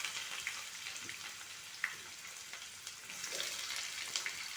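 Sliced onions frying in hot oil with cloves, cinnamon and cardamom for a yogurt goat curry, a steady close hiss of sizzling with small pops and occasional stirring scrapes.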